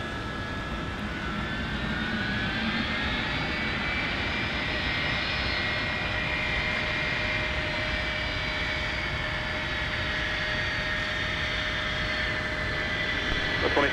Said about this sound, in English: Face to face with the Boeing 757-200 as it swung around to join Taxiway Whiskey.